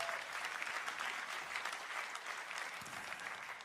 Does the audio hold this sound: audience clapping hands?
yes